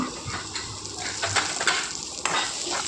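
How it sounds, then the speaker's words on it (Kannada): Green chilies frying in a pan for a homemade fish dish make a close, steady sizzle, with scraping stirs and occasional light clinks of a spoon against the metal. "ಕಾಯಿಮೆಣಸು ಸ್ವಲ್ಪ ಫ್ರೈ ಆಗಬೇಕು ಸ್ವಲ್ಪ ಹಸಿ ವಾಸನೆ ಹೋಗಬೇಕು"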